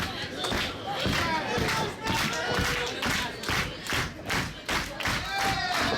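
A sold-out wrestling crowd in Southgate, California cheers and claps during a women's steel cage match, loud rhythmic surges of crowd noise and thuds under a commentator's voice.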